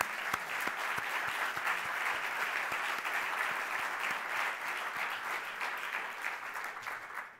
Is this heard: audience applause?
yes